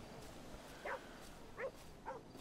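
A dog in GTA V gives three short, faint barks spaced about a second apart over a low, steady ambient hum.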